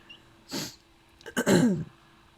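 Two short, sharp coughs close to the microphone, separated by a brief pause, the second longer and rougher.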